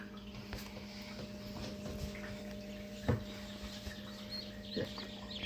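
Newly hatched chicks from an incubator cheep softly and sporadically over a steady machine hum, with a few faint taps and rustles nearby.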